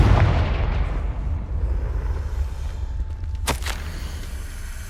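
A Confringo blasting spell goes off in Hogwarts Legacy, a sharp loud blast bursting out of a steady rumbling game background near the end and then fading away.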